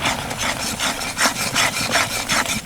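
Kashmiri chili powder, turmeric, cumin, coriander and chana masala are stirred in a pan for a vegetarian chana dal kofta curry, making a rhythmic scraping and rubbing of about ten close, loud strokes with no talking.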